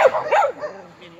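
Dogs barking and yipping in a few quick, close, loud bursts that fade into softer whimpering sounds, with no voices over them.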